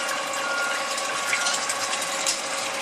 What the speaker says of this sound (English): So I open up the nozzle top, and then the pump comes on.